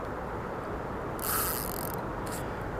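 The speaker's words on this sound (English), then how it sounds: "And my spool is running out." A fishing reel spool gives line as a hooked carp pulls, a brief buzzing ratchet whine heard twice over steady outdoor noise.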